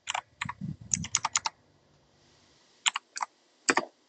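Keys on a computer keyboard clatter close up in quick irregular bursts, pausing for about a second before a few more scattered taps, with no talking.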